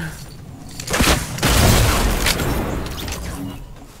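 Rocket explosions boom in a shooter video game, a couple of loud close blasts with crackling debris and rumbling tails, with brief voice sounds nearby.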